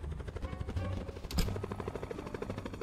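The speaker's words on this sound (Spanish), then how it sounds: "hasta un helicóptero está yendo a la refinería" A helicopter in the Roblox video game flies toward a refinery, a continuous rhythmic rotor chop with steady pulsing thumps, moderately loud and alone throughout, with a brief sharper burst midway.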